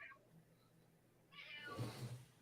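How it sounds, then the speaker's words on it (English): A house cat meows indoors, a short burst of vocalizing rising out of a quiet room near the end, moderately close and without speech. "I hear a kitty cat. That's my cat."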